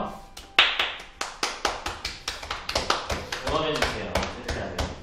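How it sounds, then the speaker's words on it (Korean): A small group claps hands together in a studio for a children's show farewell, a loud, close, rhythmic run of roughly a dozen sharp claps with a voice speaking partway through. "소피아를 위해서 우리가 다 같이 박수 치고"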